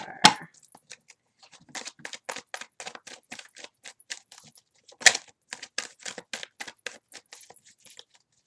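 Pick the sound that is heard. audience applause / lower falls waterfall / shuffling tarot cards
shuffling tarot cards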